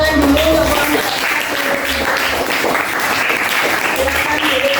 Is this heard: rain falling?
no